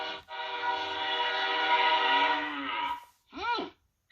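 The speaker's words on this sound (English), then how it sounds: "The engineer blows the whistle to get the cow to move." A train whistle sounds to move a cow off the tracks: one long, steady, loud blast of about two and a half seconds, then a short wavering tone after a brief pause.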